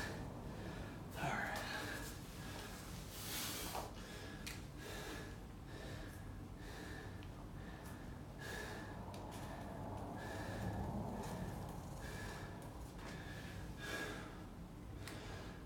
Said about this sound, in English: definitely a little bit of breathing all over the place on that